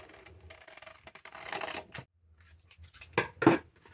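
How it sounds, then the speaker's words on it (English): Scissors cut around the flap of a paper envelope for a junk journal pocket, giving close, crisp snipping and paper rustle that builds to a few louder cuts near the end. "And then we can cut around the flap of the envelope."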